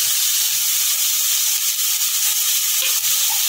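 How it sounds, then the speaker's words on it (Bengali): Tomatoes sizzle steadily in a hot pan while being fried for pav bhaji, a continuous close hiss with faint stirring scrapes and no talking. "টমেটোটা যতক্ষণ না নরম হয়েছে ততক্ষণ আমি এটাকে ভাজবো।"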